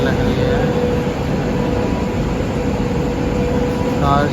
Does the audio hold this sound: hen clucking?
no